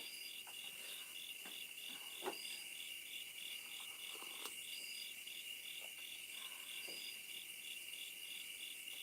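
Crickets and other insects chirp in a steady pulsing rhythm, with faint buzzing and occasional soft clicks underneath, quiet and continuous outdoors at night.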